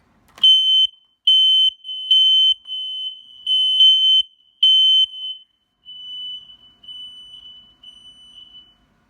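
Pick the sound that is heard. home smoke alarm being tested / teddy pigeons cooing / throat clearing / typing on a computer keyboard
home smoke alarm being tested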